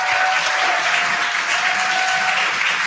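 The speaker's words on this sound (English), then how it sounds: "You can hear the crowd here." A crowd clapping and cheering during the splashdown of the SpaceX Dragon Freedom capsule in the Gulf, a continuous dense wash of applause with a faint steady tone beneath.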